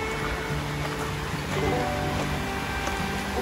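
Creek flowing right beside a campground site, a soft continuous watery rush with faint ripples, moderately close, steady throughout with no talking.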